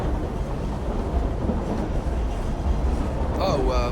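A moving train interior in Assassin's Creed Syndicate gives off a steady low rumble and rattle, with a voice talking over the noise near the end.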